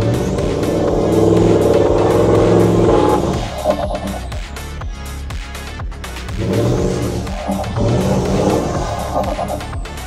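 A 4x4 engine revs hard while pulling a Toyota LandCruiser out of a rising creek at night, surging loud, easing off mid-clip, then climbing again, with no talk.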